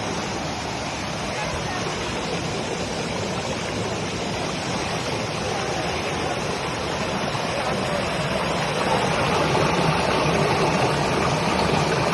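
A loud, steady roar of a waterfall, dense rushing water filling the whole scene without a break.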